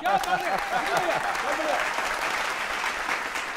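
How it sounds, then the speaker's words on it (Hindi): An audience at a televised Hindi poetry and political satire show applauds, steady dense clapping from a crowd, even and sustained throughout, with a musical tone faintly underneath at the start. "खत्म, तालियां बजा दीजिए।"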